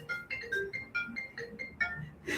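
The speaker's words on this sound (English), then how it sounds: "something's ringing" A phone rings nearby in a steady repeating electronic melody of quick pulsed tones, moderately loud and alone, while a live Pilates workout with weights is under way.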